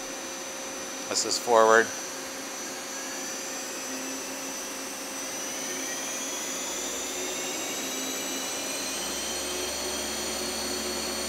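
A Nakamura Slant 1 machine runs near 2,000 RPM and climbs toward about 4,000, a steady whining hum with tones slowly rising in pitch, after a brief spoken remark near the start.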